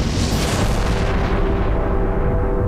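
A dense, roaring explosion sound effect depicting the Big Bang, loud and sustained throughout with a rumbling low end and no speech.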